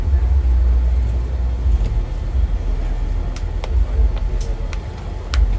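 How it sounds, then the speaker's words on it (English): A car passes along a city street in Savannah, Georgia, its low engine rumble steady and fairly close amid ongoing traffic noise, with a few faint sharp clicks on top. "And another car that wants to turn over here."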